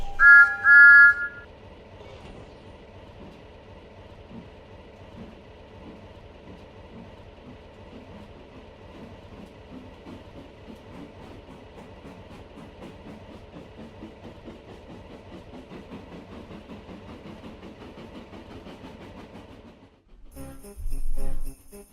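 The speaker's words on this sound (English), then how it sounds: "And off went Thomas." A steam tank engine pulls away on rails after a short whistle, wheels clicking and rumbling in a steady rhythm that builds, with a sharp whistle sounding again near the end.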